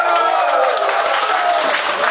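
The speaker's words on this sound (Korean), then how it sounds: "박수." Dense audience applause at a dinner-show concert for a singer's second album release, a steady loud wash of many hands clapping throughout without a break.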